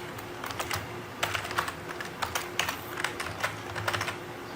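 Clicky computer keyboard typing, a series of close, irregular keystrokes in quick bursts with short pauses, some sharper presses standing out, heard alone without talk.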